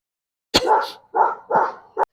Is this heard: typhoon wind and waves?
no